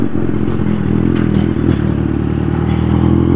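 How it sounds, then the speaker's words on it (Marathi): A Kawasaki Z800 motorcycle engine runs continuously while being ridden, a loud close steady drone with rough clattery texture and no talk over it. "गाडीचा आवाज ऐका फक्त आता."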